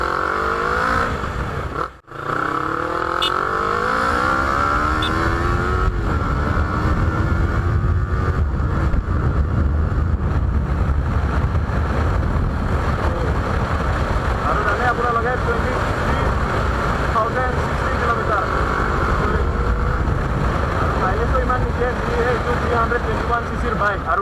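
An inline two-cylinder 300cc motorcycle revs and climbs through the gears on a test ride, its engine note rising and falling under steady wind rush, with a rider talking over it.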